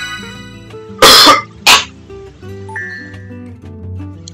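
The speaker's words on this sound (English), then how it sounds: "Stupid cough." Two sharp, close coughs from a person, one longer than the other, over soft video game background music.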